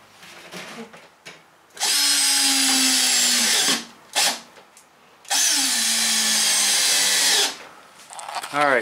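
A power drill drives screws into the bulkhead of a teardrop trailer build, two long loud whirring bursts with rising and falling pitch at start and stop, separated by short pauses and light handling noise.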